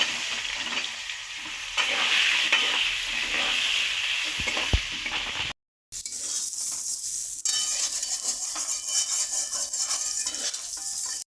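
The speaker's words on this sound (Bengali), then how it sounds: "আলুগুলো ভেজে নেব।" Potatoes frying in a wok (karai), a steady crackling sizzle with stirring scrapes and a few metallic clinks, cut by a short silent break partway through.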